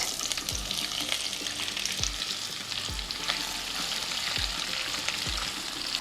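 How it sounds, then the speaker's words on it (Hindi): Finely sliced onions and cumin seeds hit hot oil in a pan, giving a loud, steady sizzle with soft periodic stirring thumps throughout and no talk. "तेल गर्म होने के बाद पहले जाएगा जीरा और फिर इसमें जाएगा ढेर सारा फाइनली स्लाइस्ड अनियंस"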